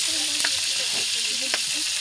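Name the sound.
food frying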